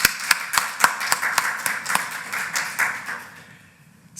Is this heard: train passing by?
no